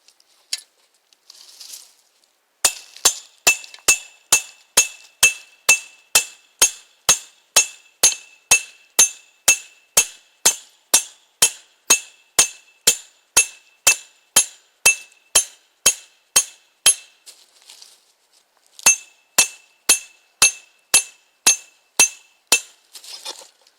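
A metal chain stake is driven into the ground with a length of half-inch rebar, producing a steady run of about thirty sharp, ringing metallic clanks at a quick even pace, with a short pause before a final burst of strikes.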